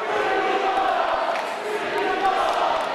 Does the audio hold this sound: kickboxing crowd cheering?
yes